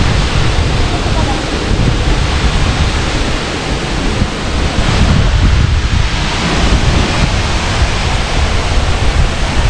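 A waterfall cascade in France roars in a dense, unbroken wash of rushing water, loud and close for the full ten seconds, with wind buffeting the microphone.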